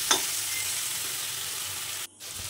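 A spiced soybean and vegetable mixture being stirred in a hot pan, giving a steady sizzle with a scrape near the start, close and moderately quiet, then a brief drop near the end.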